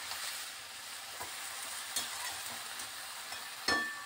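Greens (beto shak) cooking in a kadai with a little turmeric sizzle steadily while being stirred, with a few soft utensil scrapes and a brief louder clatter near the end, no talking.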